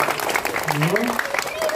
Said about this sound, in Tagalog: Palakpak din.